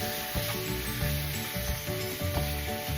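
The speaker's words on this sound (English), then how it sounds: "we're gonna brown that just a little bit" Pork seasoned with Old Bay browns in a hot pan, giving a steady, close sizzle and crackle with occasional stirring scrapes throughout, no talking.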